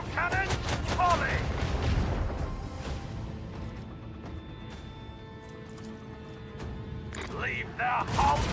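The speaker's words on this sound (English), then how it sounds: "Macro cannons, volley!" Starship macro cannons fire a volley in the Warhammer 40k: Rogue Trader video game, a burst of heavy booming shots at the start followed by rumbling and mechanical sounds, with a voice speaking near the end.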